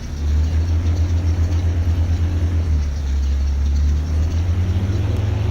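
A tractor engine pulling farm equipment rumbles steadily and loudly throughout, a low, even drone with a faint rhythmic pulse and no talk over it.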